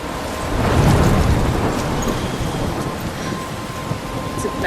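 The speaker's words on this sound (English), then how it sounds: "It's a bad storm." A bad storm in the Life Is Strange video game sends a loud, sustained rumble of rain and wind, swelling early then rolling on steadily, with no talk.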